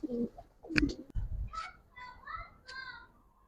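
Giribaz and coloring pigeons give a few soft coos and short calls, close and quiet. Faint voices murmur in the background.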